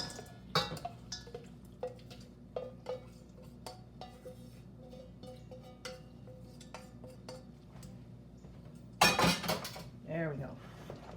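Bowls and metal utensils clatter and clink in a home kitchen while chicken bacon mac and cheese with frozen peas is swapped into a bigger bowl: scattered light ticks throughout, then a loud, dense clattering burst near the end.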